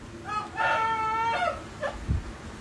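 A rooster crows once close by, a drawn-out cock-a-doodle-doo lasting about a second, followed by a short clucking call and faint background murmur.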